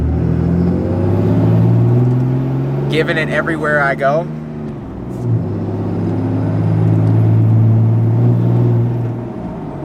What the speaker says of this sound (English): that means running the exhaust brake